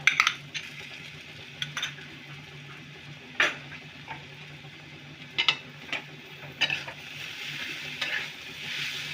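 Boiled potatoes are mixed into spices in a pan with a spoon, giving close, intermittent scraping and clinking strokes over a soft, low sizzle; no speech.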